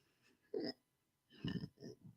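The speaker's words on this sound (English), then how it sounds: "Ugh, dang, hiccups." A person hiccups several times, up close and fairly quiet, with short abrupt bursts spaced irregularly over about two seconds.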